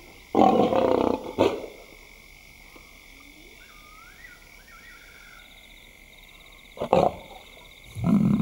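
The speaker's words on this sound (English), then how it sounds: "The big lioness begins the trek back for her cubs, but the youngsters have heard her call" A lioness in the African wild calls out to her cubs with loud, rough, close bursts: one long call at the start and two shorter ones near the end, separated by quiet with faint birdsong.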